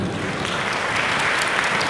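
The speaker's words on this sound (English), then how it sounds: "Could I please have a round of applause for my amazing panel?" A conference audience gives a dense, steady round of applause for a panel on the future of content, with many hands clapping together at full strength, no voices over it.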